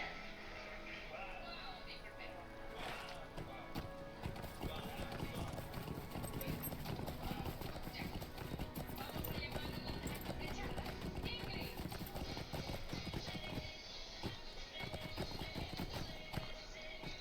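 Horse hooves clip-clop steadily in the online game LOTRO, with a whinny among the even, close footfalls while someone talks over them throughout.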